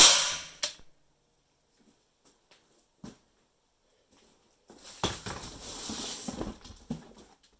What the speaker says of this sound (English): Alright, we have it at 60 psi. Just drop your dart down it. There. And fire.